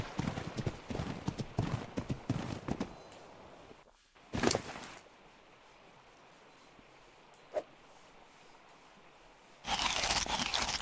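Horse hooves clip-clopping in ARK Survival Ragnarok: a quick run of close, crisp hoof clops, then a lull with a couple of isolated thumps before the hoofbeats resume loudly at the end.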